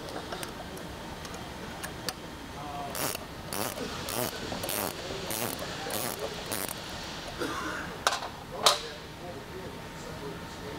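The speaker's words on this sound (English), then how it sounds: "You can use your 7/16 wrench to remove these 1/4-20 bolts." A 7/16 wrench ratchets on 1/4-20 bolts being removed from a fixture arm, giving a quiet run of sharp clicks and ticks with a couple of louder clanks near the end.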